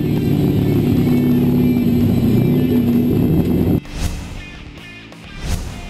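A V8 drift car engine holds a loud, steady high rev for several seconds, then cuts off abruptly, followed by shorter bursts of revving and blips.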